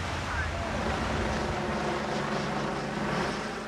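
A helicopter flies over an Australian coastline, a steady, distant, droning engine and rotor rumble mixed with wind noise, continuous throughout.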